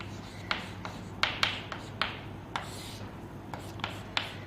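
Chalk or marker strokes on a classroom board as a chemistry teacher writes a word, a series of short scratchy taps and rubs in quick succession over a low steady hum.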